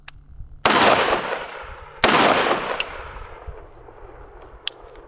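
Two loud unsuppressed gunshots blast into dirt outdoors, one near 0.6 s and one at 2 s, each trailing off in a long rolling echo, with a few faint clicks afterward.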